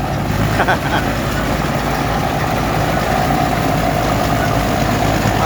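A rice-harvesting combine in a paddy field runs with a steady droning diesel rumble, loud and close, while someone talks over the continuous engine noise.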